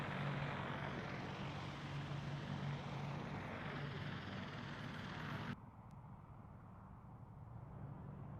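Display aircraft running in with smoke on at a VE Day air show, a steady broadband engine roar held for several seconds that drops abruptly in level near the end and continues quieter.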